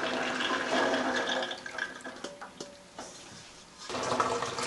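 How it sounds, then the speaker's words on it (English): Running water rinsing soybeans in a strainer or colander, a continuous splashing rush that dips briefly with faint clinks, then surges again near the end. "You just rinse the soybeans."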